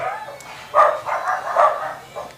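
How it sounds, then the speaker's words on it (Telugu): Dogs bark in short bursts, several sharp barks in quick succession at moderate distance. "కుక్కలు"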